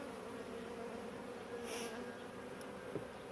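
Honey bees buzzing during a beehive inspection full of brood, a dense steady drone from many insects close by, with one bee passing louder near the middle.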